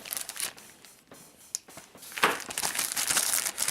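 Close, steady crinkling and rustling of plastic packaging being handled and pulled open while unpacking a Lego City car set, with a few sharper crackles and no voices.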